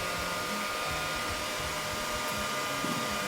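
A hair dryer blows warm air over a Cockapoo's coat during grooming, a steady, loud whooshing roar that holds constant throughout with only faint rustling underneath.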